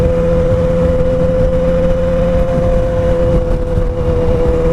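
A 600cc motorcycle rides slowly in circles over snowy ground, its engine holding a steady, loud drone with a constant tone throughout, buffeted by light wind noise on the microphone.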